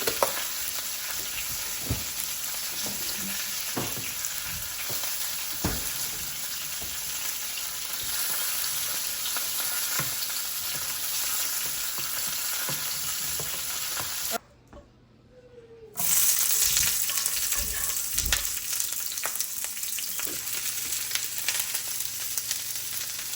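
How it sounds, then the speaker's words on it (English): Onions frying in a pan, a steady sizzle and crackle that runs continuously with brief stirring scrapes, interrupted by a short near-silent gap before the frying resumes at similar level. "Y'all see how them onions are starting to get that little burnt color?"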